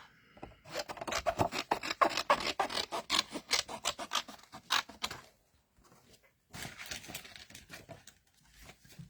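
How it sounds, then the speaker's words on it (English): Small scissors snip through smooth card in quick rhythmic bursts of close, crisp cutting sounds, pausing briefly midway before resuming more softly, with no talking. "It's my little scissors."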